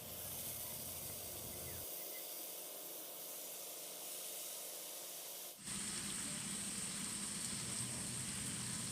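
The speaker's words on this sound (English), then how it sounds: "Now is a good time to add the bacon and get that nice and crispy" Bacon sizzling on a Blackstone flat-top griddle beside cooking sausage, a continuous close hiss that turns louder and brighter partway through.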